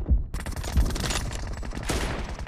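Gunfire from a GROZA or M24 in BGMI during a team deathmatch: a close, loud barrage of rapid shots with heavy thumps at the start and a dense crackle throughout.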